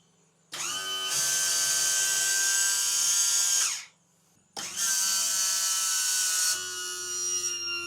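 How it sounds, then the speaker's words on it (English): Electric trim pump on a Mercury Bravo 3 outdrive runs in two loud, steady whining bursts of about three and two seconds, separated by a short pause, with the pitch shifting slightly near the end of each run. "I ran the trim all the way up and down a couple of times."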